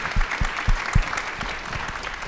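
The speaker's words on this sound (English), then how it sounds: "Let's give them a round of applause." Applause at a scholarship awards ceremony, a modest crowd clapping with a few distinct heavy claps standing out near the front, fading toward the end.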